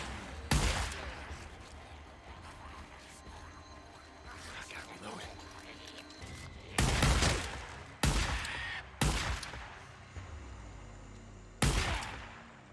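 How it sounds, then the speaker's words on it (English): Shotgun blasts in the video game Days Gone: several loud, booming shots spaced a second or more apart, with mechanical clicks and rattles of handling and reloading between them. "Love this shotgun."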